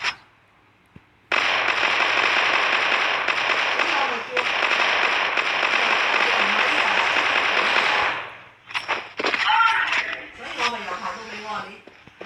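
Gunfire in the mobile shooter game Crossfire Mobile, a long sustained burst of rapid automatic shots, then scattered shorter bursts and effects.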